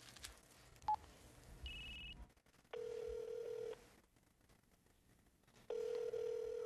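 Telephone dialing in a Korean TV drama scene: a couple of short touch-tone beeps, followed by two longer steady tone bursts separated by a quiet gap, all faint and without speech.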